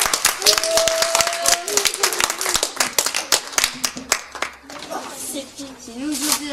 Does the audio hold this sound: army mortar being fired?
no